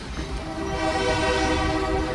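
A Great Smoky Mountain scenic railroad train in North Carolina rumbles close by with a loud, sustained horn blaring over the heavy low roar of the cars.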